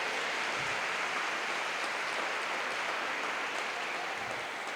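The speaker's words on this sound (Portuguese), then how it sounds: "Não, gente, então vamos aplaudir direito." A church congregation applauds in a faint, soft, continuous wash of clapping heard from some distance, with a hiss like steady rain.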